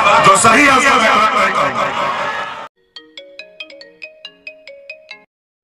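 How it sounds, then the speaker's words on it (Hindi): Phone ringtone on an outgoing call: voices talk first, then a run of about eight short, evenly spaced electronic tones rings alone after the speech stops. "लगाया खेसारी लाल यादव को फोन"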